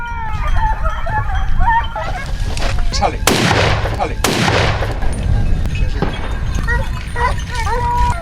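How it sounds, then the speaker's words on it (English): Two sharp, loud gunshots about a second apart ring out during a wild boar hunt in a forest, over a busy outdoor background with bird-like honking calls and possible voices. "The first shot rang out"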